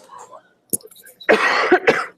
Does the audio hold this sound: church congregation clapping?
no